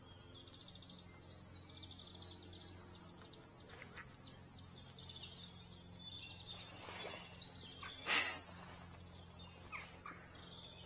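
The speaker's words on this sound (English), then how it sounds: "It is really peaceful, other than a bit of a bird noise." Birds chirping around a quiet fishing pond, faint scattered tweets and calls over low ambient background, with a louder rustle or knock near the end.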